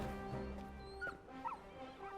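A puppy in Final Fantasy XVI whimpers and yips in short, soft, high cries over quiet background game sound.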